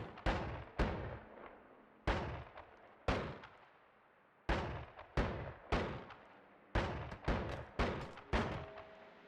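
Explosions in the video game Noita, a rapid series of sharp booming blasts, about a dozen sudden bangs each trailing off into a rumbling decay, some clustered close together and others spaced apart, with no talk over them.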